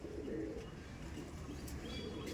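An original Lambari pigeon pair coos close by, a continuous soft, throaty burbling that holds steady through the short stretch over a muffled background hum.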